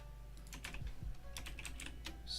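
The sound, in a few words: typing on a computer keyboard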